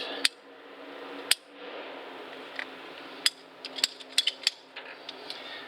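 Cutters snip material to length for a square body Chevy truck door pin: a handful of sharp metallic clicks and snaps, one early, then a quicker cluster toward the end over quiet room tone.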